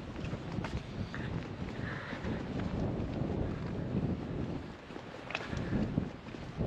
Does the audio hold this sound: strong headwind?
yes